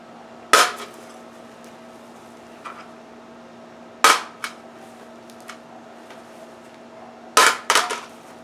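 A Chinese-made Worker Mapleleaf Nerf toy blaster dropped onto a hard floor three times, each drop a sharp plastic clatter with a brief bounce, separated by quiet pauses over a steady low hum.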